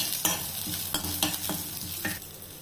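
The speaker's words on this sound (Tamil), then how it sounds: "லேசாக வதங்கட்டும். வெங்காயம் லேசாக வதங்கட்டும்." Onion and curry leaves frying lightly in oil, a continuous close sizzle with a few sharp scraping strokes of a ladle against the pan, and no one speaking.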